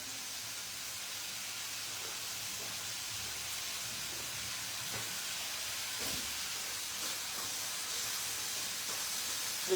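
Onions sautéing in a pan for tomato curry, giving a steady soft sizzle and hiss that runs without pause, with faint crackles, and no talk.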